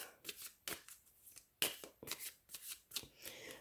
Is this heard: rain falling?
no